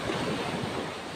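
Ocean waves surging onto a black sand beach at Bagac, Bataan, a steady broadband roar of surf with wind buffeting the microphone, no voices.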